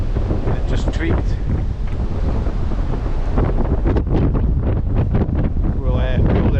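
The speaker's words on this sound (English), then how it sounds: "That wind's just really got up there just now though" Strong wind on a river bank in Scotland roars and buffets the microphone without letting up, and people speak briefly under the gusting noise.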